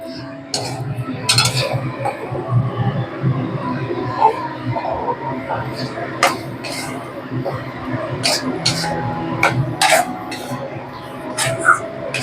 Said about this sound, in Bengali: শুধু সামনে পেছনে এইভাবে নাড়বো, আর কিচ্ছু না।